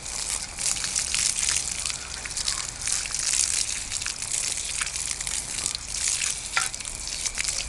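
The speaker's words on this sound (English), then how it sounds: "If I go over this with the toothbrush, more of that rust is coming off" A toothbrush scrubbing rust off a Columbia Bromleigh bicycle rim soaked in Evaporust solution, a steady wet bristly scratching and sloshing that runs continuously at close range.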